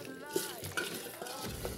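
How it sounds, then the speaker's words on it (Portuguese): Vegetables tossed into a pot with meat for a homemade soup and stirred: soft, close stirring and faint sizzling with a few light clinks of a utensil against the pot, fairly quiet. "eu já vou jogar os legumes aqui dentro"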